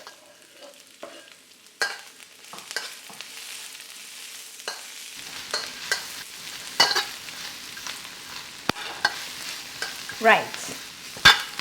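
Vegetables for vegan chow mein are stir-fried in a pan, with green onions among them. Scraping and clattering strokes come close and steady over a soft sizzle, and a brief spoken word is heard.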